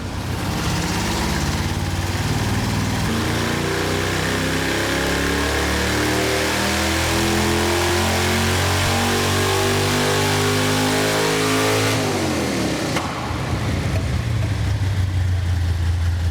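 A Pontiac Firebird V8 on a dyno revs hard and continuously, its loud, close roar climbing through the range, then drops sharply and settles back toward a lower drone.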